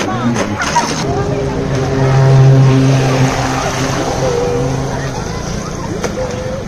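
A motorboat runs along a flooded road, its engine droning steadily and swelling slightly midway, with people talking over it.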